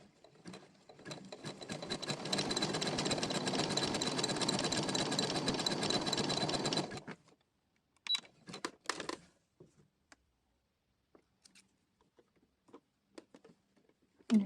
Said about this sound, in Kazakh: Мен тігісті бастап кеттім. Зигзаг, ені 5, 5-те 2